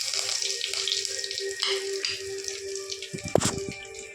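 Curry leaves hit hot oil in a pan already holding whole spices such as cinnamon, giving a steady close sizzling hiss with a brief clatter near the end.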